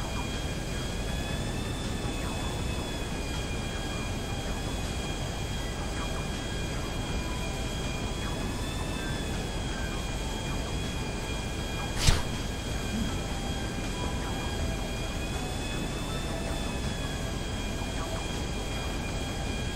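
Pursuing police helicopters in the video game GTA V give a steady, loud rotor and engine roar throughout, with one sharp burst partway through and no talking.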